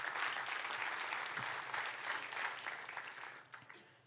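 A church congregation breaks into steady applause, a dense, fairly distant wash of many hands clapping that holds evenly and fades slightly toward the end.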